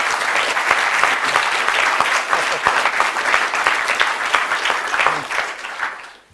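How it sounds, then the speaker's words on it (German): An audience at a podcaster workshop claps in a dense, steady burst for several seconds, then fades out near the end. "Einmal klatschen."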